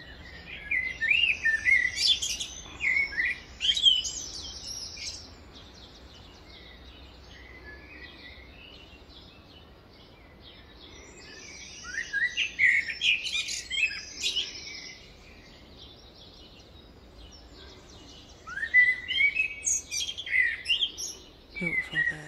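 A blackbird sings its morning song in three clear bursts of fluid, whistled phrases, separated by quiet pauses, close and bright over faint background hiss.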